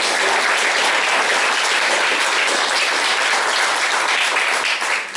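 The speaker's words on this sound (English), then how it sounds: "Give yourselves a round of applause for being a fantastic audience." A large audience at an evening of story and song in Kilbarchan applauds: dense, loud, sustained clapping that fills the room evenly before tapering at the very end.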